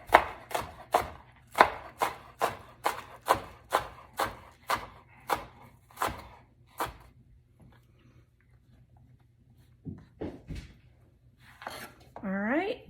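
A knife chops store-bought green onions on a cutting board in about fifteen crisp, evenly spaced strokes, near and loud, then stops. A few quieter clatters and a brief voice follow.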